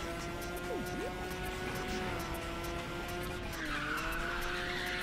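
Ridge Racer 6 race car using a double nitrous boost, a continuous loud engine whine with tire squeal and rising pitch near the end, with no voices.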